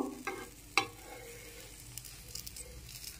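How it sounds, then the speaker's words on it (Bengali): Patishapta pitha fries quietly in a pan, with a faint sizzle and a few soft utensil taps, one sharper clack early on. "এরকম ভাবে আরো একটা পাটিসাপটা ভেজে আমি দেখাচ্ছি।"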